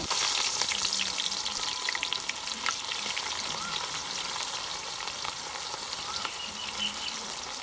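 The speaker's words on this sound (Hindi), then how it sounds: "इसको भी थोड़ा सा फ्राई करेंगे और साथ ही हम शामिल कर देंगे प्याज।" Onions fry in hot oil with curry leaves, cinnamon and black cardamom for a chicken pulao. A loud, steady sizzle crackles continuously, with faint stirring scrapes and no voices.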